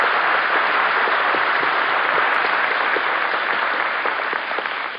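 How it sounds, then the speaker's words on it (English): A studio audience at a radio quiz show applauds steadily for several seconds, a dense even wash of clapping that tapers slightly at the end. "I think we ought to give a nice round of applause to our little actress, Naomi Cooks."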